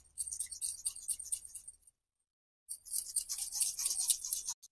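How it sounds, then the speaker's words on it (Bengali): A whole lemon being grated, rapid rasping strokes in two bursts separated by a short pause, close and fairly quiet. "এভাবে আমি পুরো লেবুটা এভাবে আমি গ্রেট করে দিয়ে দেবো।"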